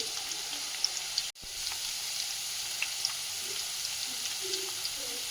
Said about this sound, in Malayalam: ഇപ്പം നമ്മൾ പാവയ്ക്കാൻ വേണ്ടി എണ്ണയിൽ കിടന്ന് നല്ലതുപോലെ ഫ്രൈ ആയിക്കൊണ്ടിരിക്കുകയാണ്